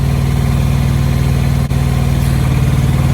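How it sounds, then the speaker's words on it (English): Tripac Evolution truck AC system running, a loud steady engine-like drone with a low rhythmic hum throughout and a brief dip at the midpoint as the compressor clutch engages, no talking. "Okay, the AC system is starting."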